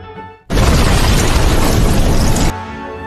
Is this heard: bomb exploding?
yes